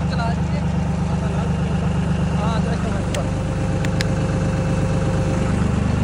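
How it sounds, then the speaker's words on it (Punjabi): A Ford 3600 tractor engine idles steadily close by, a continuous low rumble that runs under people talking throughout. "ਲੋਈ ਟਰੈਕਟਰ ਆਪਾਂ ਬਾਹਰ ਕੱਢ ਲਿਆ"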